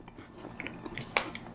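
Someone bites and chews a crunchy Korean baked cookie up close, giving a short run of crisp crunches with one sharp bite near the end, quiet and without talk.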